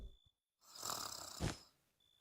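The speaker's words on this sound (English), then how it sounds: "I snore now as well when I sleep." Snoring from a sleeping character in the Minecraft video game, a single drawn-out rasping breath heard alone, quiet and close, with brief silence before it.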